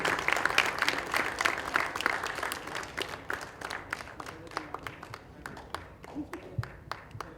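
Crowd applause at the 2017 ACA Championship India awards ceremony: dense clapping from many hands that gradually thins into scattered, distinct individual claps, fairly close and moderately loud.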